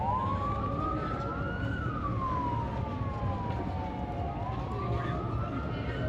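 An ambulance siren wails along the Paphos sea front on a Sunday morning during a race, its rising and falling tone sweeping steadily for several seconds over constant road and outdoor background noise, moderately distant.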